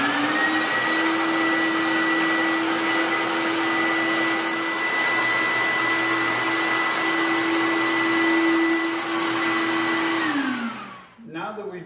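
A vacuum cleaner runs at a steady, loud pitch while cleaning a baseboard heater fin tube, then winds down near the end as it is switched off, followed by a short bit of handling noise.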